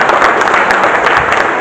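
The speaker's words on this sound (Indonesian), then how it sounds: "Tepuk tangan untuk kita semua." Audience applause fills a hotel meeting room at a volunteer coordination rally, a dense, steady wash of many hands clapping at close range with no talk over it.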